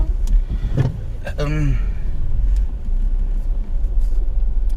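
A car rolls slowly through a factory car park, its low engine rumble steady and close throughout, with a brief voice-like sound early on and faint interior clicks.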